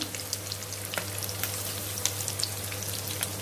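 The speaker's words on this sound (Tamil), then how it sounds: "நல்லா பொரியட்டும் அந்த மசாலா, அப்போ தான் அது உள்ளார இறங்கும்." Masala-coated vanjaram fish deep frying in oil, with a steady soft sizzle and scattered crackles and pops, fairly quiet and close.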